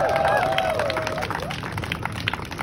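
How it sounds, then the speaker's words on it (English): Audience applause in a speech hall, a round of clapping for two local anti-poverty activists, fairly loud and steady across the whole stretch with crowd noise mixed in and a voice briefly audible at the start. "I'd love for us to give another round of applause, please, for Dan Rose and Sarah Hines"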